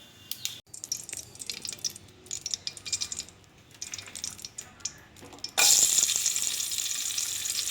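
Cumin seeds pop in hot oil as light scattered crackles over a quiet background, then a loud, steady sizzle bursts in and fills the rest of the clip.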